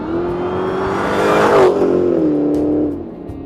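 Dodge Challenger Hellcat's supercharged V8 with blower whine, a steady loud engine drone that rises in pitch briefly midway then settles, heard close with no talking.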